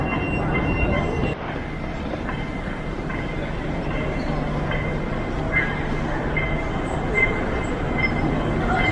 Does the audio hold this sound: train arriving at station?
yes